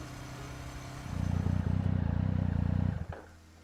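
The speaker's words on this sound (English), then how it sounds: "The motorcycle finally comes to a stop beneath a platform on the hillside terrace" A motorcycle in the Love and Deepspace video game rolls to a stop beneath a hillside terrace platform, its steady low engine drone pulsing for about two seconds before cutting off abruptly.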